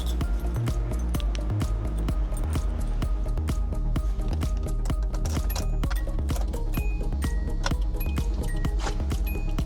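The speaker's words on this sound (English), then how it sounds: "You hear that clicking? It's clicking like really, really fast." Rapid, fast turn-signal clicking from a Datsun 280ZX fitted with LED switchback lights, a dense, even stream of sharp ticks running steadily throughout.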